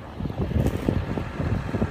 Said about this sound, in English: Got a little bit of wind today